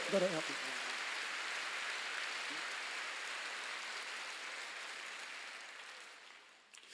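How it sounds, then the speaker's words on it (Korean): Clapping from a church congregation during a Sunday worship sermon. The steady, hissing wash of many hands holds for several seconds and fades near the end, with a brief voice at the start. "박수 좀 세게 쳐봐요."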